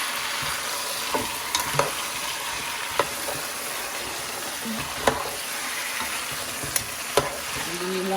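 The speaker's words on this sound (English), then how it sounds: "And then you want them to fry a little bit." Chicken legs fry in a pot with a steady crackling sizzle, broken by sharp taps and scrapes of a utensil at irregular moments throughout.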